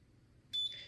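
A short, clear electronic beep rings out once, high-pitched and steady, after a quiet stretch of low background hum.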